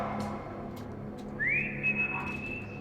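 A single clear whistle in the video game Lost in Vivo, rising quickly and then holding a steady high tone for over a second, heard near and alone over a low game ambience.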